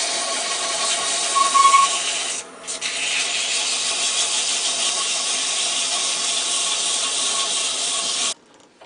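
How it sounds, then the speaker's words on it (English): Coarse sandpaper held against a turned wooden baby rattle spinning on a lathe, giving a loud, continuous close rasping hiss with a brief dip partway through before it cuts off. "Take some coarse sandpaper to get rid of those edges."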